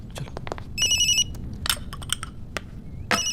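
A telephone rings in a short burst of bright electronic tones, clear and moderately loud, amid clinks and clatter in a room.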